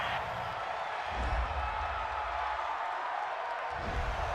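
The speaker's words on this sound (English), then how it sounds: "Well, this crowd does not like that call." Football stadium crowd during a Washington Redskins versus Philadelphia Eagles game, reacting to a penalty call with a broad, distant murmur and swelling boos, continuous throughout.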